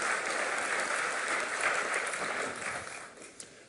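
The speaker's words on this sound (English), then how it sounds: "Applause is fine." Keynote audience at Oracle OpenWorld applauding in a large hall, a dense, steady wash of clapping that holds strong and then gradually thins and fades toward the end.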